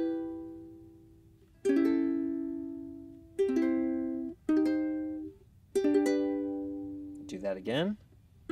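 Ukulele chords ring out in a short sequence, four sustained strums with pauses between, ending in a quick rising strum; bright and close. The intro of a song.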